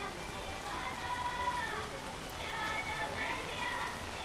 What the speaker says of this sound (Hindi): यहाँ मूसलाधार बारिश हो रही है